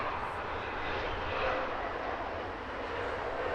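Uzbekistan Airways Boeing 787-8 Dreamliner arriving at Heathrow from Tashkent, a steady broadband engine roar heard from a distance, swelling slightly mid-way with no voices.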